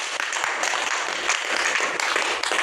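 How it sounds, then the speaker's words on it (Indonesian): Dense, steady audience applause at a Christmas gathering of SSpS Flores Barat province staff and formators, a continuous wash of many hands clapping that stays loud and even throughout. "Tepuk tangan."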